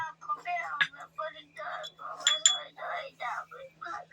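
A bowl is set down among dishes at a home meal, giving a couple of light ceramic clinks beneath close, continuous conversation.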